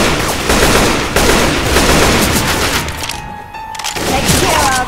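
Gunfire in the Half-Life 2: Lost Coast game, loud rapid shots crackling in bursts with brief pauses, fairly close and dense.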